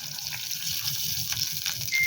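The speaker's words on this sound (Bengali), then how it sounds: "এবার এর মধ্যে মিক্সি ধোয়ার জলটা দিয়ে দেব" Water from rinsing a mixer jar poured into a pan of fried masala for a paneer curry, a steady close gush and splashing with a soft bubbling texture throughout.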